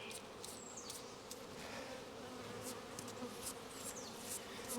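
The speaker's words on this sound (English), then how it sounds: "So we brush the bees off" Honey bees buzz in a continuous, even drone around the hive as honey frames are pulled, with no talking.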